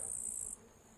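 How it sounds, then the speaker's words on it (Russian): Grasshoppers chirping in a late-August summer garden among strawberry plants, a high continuous buzzing trill that holds steady for about half a second then cuts off, faint and alone. "Стрекочут кузнечики."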